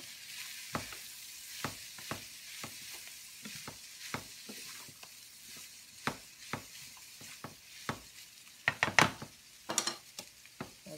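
Ground ginger stirred into cabbage crack slaw frying in a pan: a soft sizzle runs throughout, broken by repeated sharp scrapes and clacks of a utensil against the pan, clustering in a busy burst toward the end.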